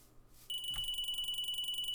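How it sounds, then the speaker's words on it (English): A Minecraft entity detector alarm in a modded game sounds after a brief quiet moment: a shrill, high electronic beeping that pulses rapidly and evenly, like an alarm clock, and continues to the end. "So sort of like a little alarm clock, I guess. Whenever anything gets close, it goes off."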